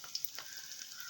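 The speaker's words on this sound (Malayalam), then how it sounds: "ബോണ്ട ഉണ്ടാക്കാനുള്ള തയ്യാറെടുപ്പിൽ ചട്ടിയിലിട്ടു" Banana fritters (pazham bonda) sizzle in hot oil in a pan, a faint, steady hiss with tiny crackles for about a second.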